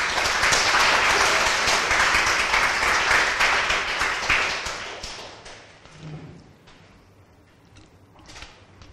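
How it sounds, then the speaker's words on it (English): Audience applause at a homelessness conference, a dense, steady wash of clapping from a sizeable crowd that holds for several seconds, then thins out and fades to a few scattered claps and room murmur. "So can you give your round of applause to David"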